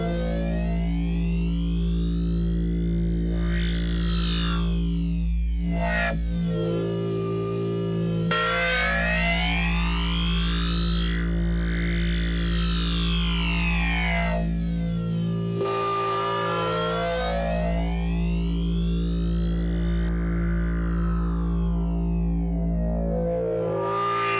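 A thick, buzzing synthesizer drone from the Vital synth's phase dispersion spectral mode, with sweeping, rubbery harmonics that rise and fall in arcs, giving a squishy, warbling texture over a constant low bass.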